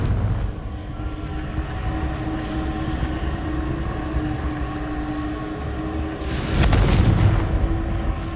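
A Confringo explosive spell in Hogwarts Legacy goes off as one loud, sharp blast, breaking through a steady low rumbling background late in the clip.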